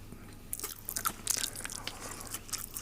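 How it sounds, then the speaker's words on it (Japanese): Crisp, freshly deep-fried menchi katsu is bitten and chewed outdoors at a campsite, several close crunchy bites and chewing crackles in irregular bursts, fairly quiet. "サクサクしてる。"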